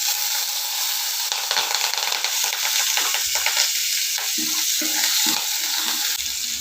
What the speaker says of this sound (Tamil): சீரகம் உளுந்தும் பருப்பு பச்சை மிளகா நாலு போட்டுக்கோங்க